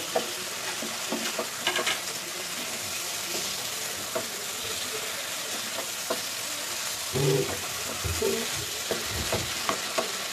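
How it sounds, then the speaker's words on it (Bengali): Chicken kosha is stirred and fried in a pan as meat stock is added a little at a time, giving a steady close sizzle with scraping stir strokes and a few louder splutters, no talking. "মাংসের আগে থেকে যে স্টু করেছিলাম সেই জলটা আমি অল্প অল্প করে দিয়ে দিয়ে কষাচ্ছি"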